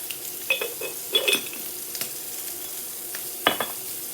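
Italian sausage meat cooking fast in a skillet, a steady faint sizzle with a few scraping stirs and light clinks of a utensil against the pan.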